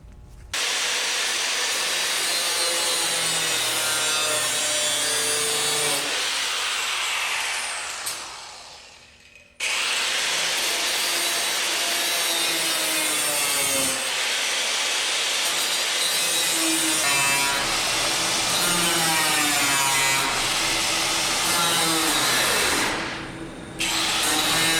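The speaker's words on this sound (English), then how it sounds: "we're going to probably cut this whole panel out just because of the amount of rust on it" Power saw cutting through a rusted steel car body panel, a loud continuous grinding rasp that stops briefly about a third of the way in, then resumes steadily until near the end.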